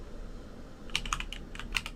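A computer keyboard clatters faintly on a quiet desk: after a second of near silence, a short burst of several quick keystrokes sounds, then a few more taps.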